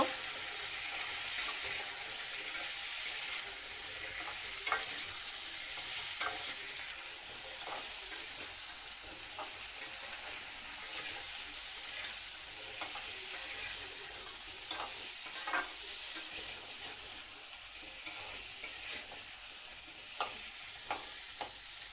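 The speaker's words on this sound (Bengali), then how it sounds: "ভালোভাবে একটু হালকাভাবে ভাজা করতে হইব" Cut pumpkin pieces and chopped onion fry in oil in a kadai while being stirred, a continuous soft sizzle broken by repeated light scrapes and taps of the spatula against the pan.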